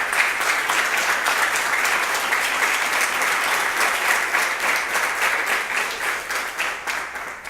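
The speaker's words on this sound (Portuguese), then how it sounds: "eu queria que você aplaudisse e glorificasse o nome do Senhor" A church congregation at a Friday worship service claps in praise, a thick, even wash of applause that holds steady for over seven seconds without pause.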